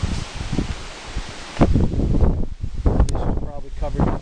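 Strong wind gusting across the Kohunlich Mayan ruins in Mexico, rustling trees and buffeting the microphone in rough, uneven bursts, with a voice briefly heard over the blustery noise.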